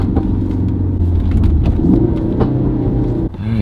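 A Ford Focus RS/ST with an aftermarket intake accelerates in second gear while building boost, giving a loud, steady engine rumble heard from inside the car that eases off briefly near the end.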